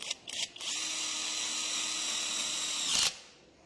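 A Retools cordless impact wrench drives a socket into a block in one loud, steady whirring burst of about two and a half seconds, after a few brief starts, then stops abruptly.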